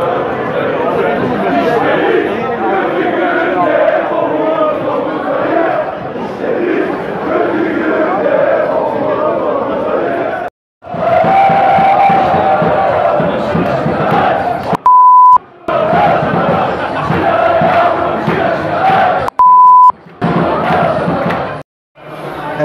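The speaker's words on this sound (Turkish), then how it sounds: "Burada maç öncesi hep birlikte bir toplanıp tezahürat yapıyorlar." Beşiktaş football fans gather before a match and chant together as a loud, dense crowd, their voices massed and continuous, with brief beeps breaking the roar a few times.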